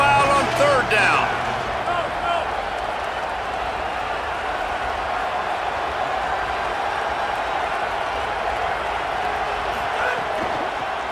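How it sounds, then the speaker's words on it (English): A football stadium crowd swells into a steady, loud roar on third down, a broad wash of noise with a louder burst near the start and commentary talking over it. "this crowd bearing down and getting loud on 3rd down"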